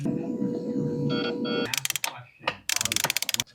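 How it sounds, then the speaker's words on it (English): Ratchet clicking on the seat bolts inside a McLaren, bursts of rapid ratcheting heard close after a stretch of low hum and handling noise, alone. "I may just take the seats out, dude. 4 bolts holding it in"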